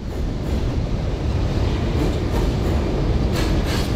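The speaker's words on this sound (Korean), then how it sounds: "열차 소음을 이용해 강한 생명력을 지닌 곰의 푸효 소리를 표현하려 했다" Rumbling train noise, loud and continuous, used in an installation as the breathing sound of a polar bear sculpture built from joined scrap tyres; a steady dense roar throughout with no voices.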